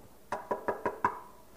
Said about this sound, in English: He knocked on the door of the butcher.